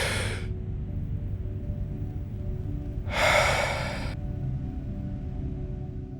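Two slow, deep breaths, one at the very start and a louder one a few seconds later, each a soft airy rush over a quiet room hum.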